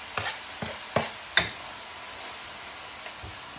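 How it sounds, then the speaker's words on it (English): Parsley, green onions and celery leaves stir-fry with seared fish in a pan, a few quick scraping stirs over a light, steady sizzle that continues after the stirring stops. "And we're going to stir fry that."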